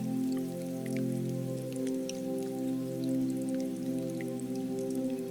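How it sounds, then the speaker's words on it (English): Rain falling outside a cozy bookshop at night, with scattered drops pattering steadily throughout beneath a sustained low musical drone, soft and even. "The rain doesn't hurry, it simply keeps going."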